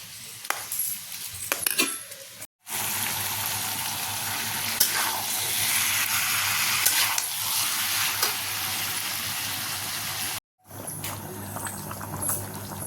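Mushrooms sizzle and fry loudly in a hot pan with a steady hiss and occasional stirring clinks, briefly cutting out twice, with no talk.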